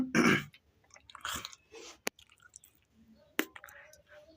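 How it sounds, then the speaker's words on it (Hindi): A man clears his throat and gives a few short coughs, close to the mic, separated by quiet pauses and a couple of sharp clicks. "थोड़ा सा यार गले में कुछ हो गया है, खांसी आ रही है"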